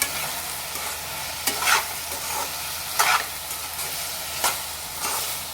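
Ridge gourd curry with salt and chili being stirred in a hot pan, a constant low sizzle broken by several spaced spatula scrapes, close and alone without speech.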